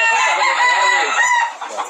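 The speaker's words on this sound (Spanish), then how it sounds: "Pero aquí hay muchos gallos porque hay como 45." Several roosters crow and cluck together at close range among a flock of about 45, the calls overlapping loudly and continuously before thinning out near the end.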